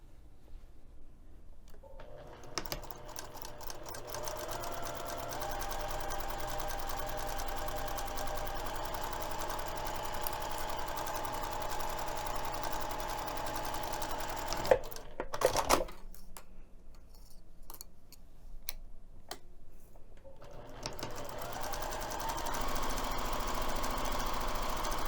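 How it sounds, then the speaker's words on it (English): A sewing machine stitches the long edges of quilting cotton pieces in a steady, close mechanical whir. It runs for long stretches, stops briefly in the middle with a few clicks, then resumes. "we're going to be stitching both of the long edges using a 1/4 inch seam allowance."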